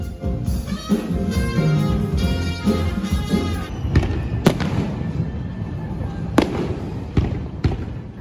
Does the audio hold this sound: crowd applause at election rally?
no